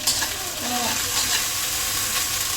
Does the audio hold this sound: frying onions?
yes